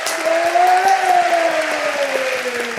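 Applause rattles steadily for a tattoo apprentice's work, a dense, even patter of clapping held for about three seconds over a faint sustained tone.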